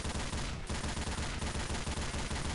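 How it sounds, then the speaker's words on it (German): Mounted machine gun in the Left 4 Dead 2 co-op zombie shooter, firing a loud, continuous stream of rapid shots for the whole stretch with only a brief dip in the middle. No voices are heard over it. "Nicht zu schnell mit dem MG schießen, weil sonst macht es einfach so Überhitzung."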